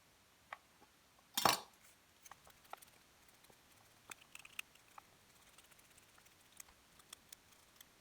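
A knife cutting potatoes on a cutting board in a home kitchen while making Japanese curry, with one sharp, louder chop followed by a string of faint, scattered taps and clicks at an irregular pace.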